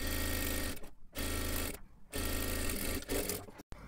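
A sewing machine stitches a folded strip for a blouse in three quick runs separated by short pauses, a close, rapid mechanical chatter ending in a brief stop.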